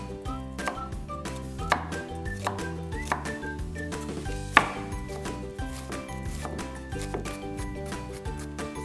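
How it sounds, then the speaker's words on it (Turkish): Steady knife chopping an onion on a board, quick repeated taps at a fairly even rhythm with a few louder strikes, close up and alone over soft background music. "Şimdi soğanı doğrayarak iç harcımı yapmaya başlıyorum."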